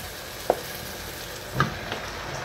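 Fat sizzles in a hot pan with a steady frying hiss, broken by two brief louder spatters or clinks near and at a moderate level, with no talking.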